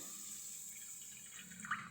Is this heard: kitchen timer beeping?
no